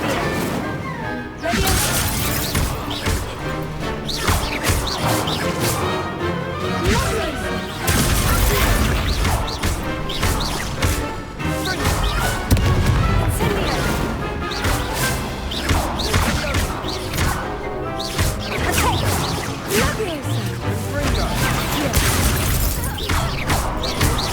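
The Confringo blasting spell goes off during a duel in Hogwarts Legacy, with dense repeated crashes, thumps and bursts layered over continuous game music and effects, loud and busy throughout.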